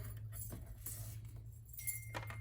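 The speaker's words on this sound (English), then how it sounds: "fillet the gel off like that by holding the skin." A metal spoon scrapes and clinks against a fresh aloe vera leaf, lifting the gel off the skin. There are a few close, light contacts over a steady low hum.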